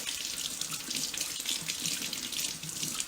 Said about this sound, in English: All right, I'm gonna wash this off real quick.